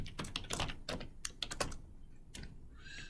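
Rapid, uneven bursts of computer keyboard keystrokes while code is entered, close and fairly crisp, clustering in quick runs with a brief pause before a final few taps.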